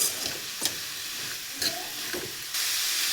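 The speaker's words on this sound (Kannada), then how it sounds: "ಸೊ ಅವರೆಕಾಯಿ ಚೆನ್ನಾಗಿದ್ದಲ್ಲಿ ಸ್ವಲ್ಪ ಫ್ರೈ ಆಗಬೇಕು, ಅಲ್ಲಿವರೆಗೂ ಚೆನ್ನಾಗಿ ಈ ರೀತಿ ಮಿಕ್ಸ್ ಮಾಡಿಕೊಂಡು ಫ್ರೈ ಮಾಡ್ಕೊಳ್ಳಿ." Hyacinth beans (avarekai) frying in a pan give off a soft steamy hiss with a few stirring scrapes, and the hiss grows louder toward the end.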